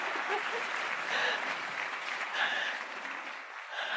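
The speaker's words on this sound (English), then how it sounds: "Oh yeah, you can clap." Steady audience applause fills the room at a moderate level, a continuous wash of many hands clapping without any voices standing out.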